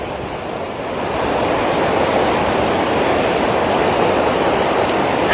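Water released from the Ukai dam makes a loud, continuous broadband roar and rush, rising slightly after the first second and holding steady, with no voices heard.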